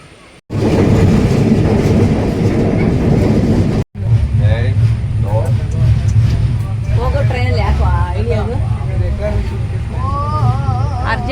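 A train running along the railway on a journey from Bengaluru to Shivamogga: a loud, steady rumbling roar of the moving carriages, heard close with a brief break, as people talk over it in the second half.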